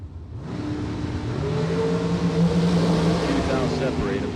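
Drag racing door cars rev hard at the start, engines rising in pitch and roaring loud and close after a brief quiet opening, with a voice faintly under the noise.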